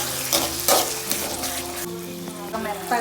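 Tomato pachadi being stirred in a pan, giving a steady close sizzle with soft scraping strokes and a few brief louder clatters of the spoon, no talking.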